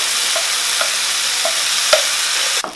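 A spice paste for an eggplant curry hisses as it fries in hot oil with mustard seeds, under a steady loud sizzle with a few soft stirring scrapes and a sharper clatter near the end.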